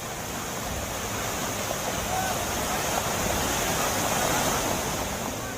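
Rushing rainwater pouring through a roadside drain beside the Ramnagar–Haldwani highway where a Swift car was swept in, a loud continuous broadband roar of flood water with no break.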